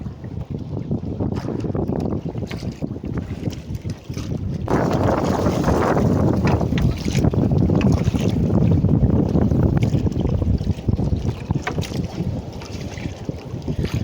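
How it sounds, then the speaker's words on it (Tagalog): Strong northeast monsoon (amihan) wind roars and buffets the microphone continuously, gusting harder in the middle, with rumbling low noise and no voices. "Hanggang ngayon mga ka-sisters, malakas pa rin yung hanging amihan."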